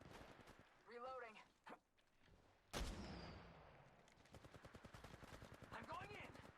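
Gunfire from Apex Legends Mobile crackles in rapid automatic bursts, with a sharp blast midway and a sustained volley near the end, while a voice talks in between.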